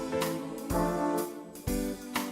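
A Yamaha PSR SX-900 keyboard and a KETRON SD90 arranger module play together in a layered big-band groove, with drum hits on the beat under sustained brass chords, full and close.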